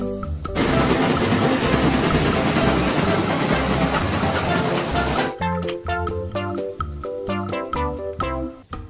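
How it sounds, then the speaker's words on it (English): A loud rushing rumble of a passing train fills the first few seconds, then gives way to bright music with rhythmic notes. "Train. Kereta api."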